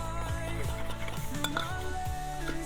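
A utensil clinks and scrapes around a bowl while powdered eggs are stirred by hand, with quick, uneven taps and scrapes close by.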